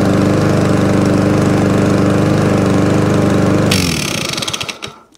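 A small petrol lawn mower engine, an SV RV150, revs loud and steady up close, then cuts out and sputters to a stop.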